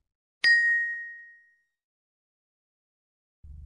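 A single bright notification bell dings once, ringing out cleanly and fading over about a second in otherwise near silence, followed by a brief low hum at the end.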